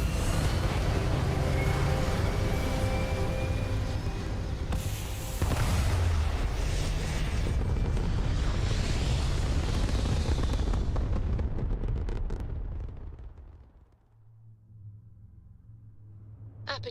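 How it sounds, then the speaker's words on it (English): Spaceship thrusters fire in Starfield with a loud, sustained roaring rumble that swells and holds for about twelve seconds, then fades away into a low steady hum. "All thrusters firing."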